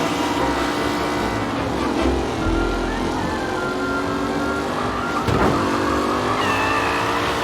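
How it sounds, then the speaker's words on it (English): Race cars in Mafia Definitive Edition roar steadily at close range, engines revving and shifting throughout, with a brief tire-skid burst midway and no talking. "The race leaders roar into the second lap."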